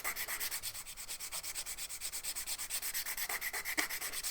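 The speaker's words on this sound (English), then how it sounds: "I'm going to get the metal file and pull this around the smile line, just filing it so it becomes really crisp." Metal file drawn in quick, even back-and-forth strokes across an acrylic nail, a close, steady rhythmic rasping that continues throughout, no talking.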